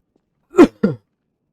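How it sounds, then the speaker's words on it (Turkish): Two close, loud coughs, one right after the other with a short gap, then silence. "Hala geçmeyen bir öksürüğüm var diyeyim yani."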